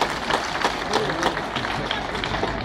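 Audience at an outdoor cultural event by the Uluköy Dam clapping, a steady patter of applause with some scattered crowd noise running throughout.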